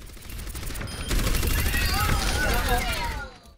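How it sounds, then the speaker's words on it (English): Orisa's fusion driver, an automatic projectile weapon in the Overwatch game, fires a loud, sustained stream of rapid shots that swells midway and then cuts off near the end, with a voice talking over it. "Orisa has a fusion driver, which is an automatic projectile weapon, which deals quite some damage"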